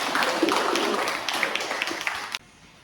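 A room audience gives a short round of applause at a university teaching session. Dense, even clapping carries on for just over two seconds and then cuts off abruptly.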